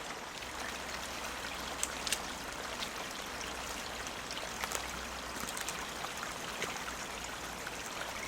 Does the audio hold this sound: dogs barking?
no